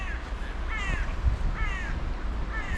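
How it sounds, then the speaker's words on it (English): Crows cawing in Riga's snowy city centre, a series of harsh repeated caws at moderate distance over a low hum of traffic. "Few birds around as well."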